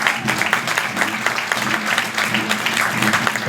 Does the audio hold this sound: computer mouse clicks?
no